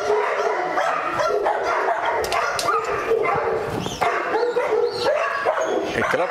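Several dogs barking and yipping at a pet boarding farm, a continuous overlapping chorus of close, loud barks, with people talking among them.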